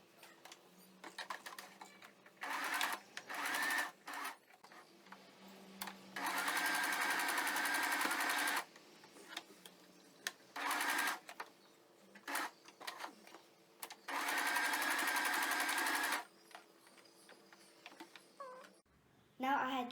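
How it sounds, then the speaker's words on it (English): A sewing machine stitches a small fabric bookmark in several bursts of steady, rapid whirring, some long and some short, separated by pauses with faint handling and a soft voice. "Now we're going to start sewing."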